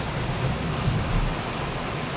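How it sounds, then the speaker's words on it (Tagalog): Dense, steady rain pours down in a continuous hiss with a low rumbling undertone, no pauses. "ang lakas ng ulan"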